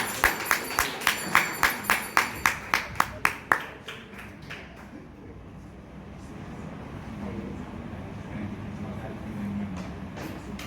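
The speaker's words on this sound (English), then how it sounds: "Big round of applause for Rajeev sir." About fifteen sharp, evenly spaced claps ring out close and loud at a Toastmasters club meeting, then stop, leaving a quiet room murmur.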